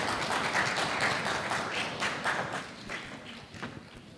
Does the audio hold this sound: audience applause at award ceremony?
yes